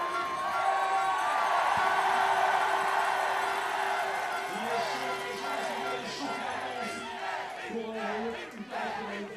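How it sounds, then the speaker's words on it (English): Crowd at a men's World Cup biathlon pursuit finish in Annecy, France, cheering and chanting in a steady roar that fills the whole stretch, with shouts and whoops rising above it. "the chants from the crowd"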